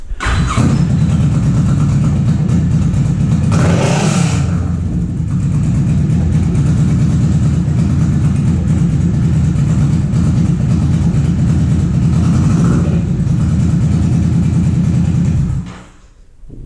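A Kawasaki Vulcan 650S motorcycle fitted with a Two Brothers exhaust runs loud and close, a deep throbbing exhaust note with two sharper revs rising above the steady idle before the engine cuts off abruptly at the end.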